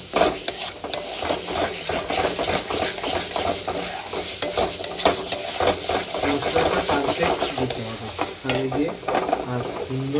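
Ginger and garlic being sautéed in a pan for Punjabi-style rajma, with constant sizzling and frequent scraping strokes of a spoon against the pan, close and busy throughout, no one speaking.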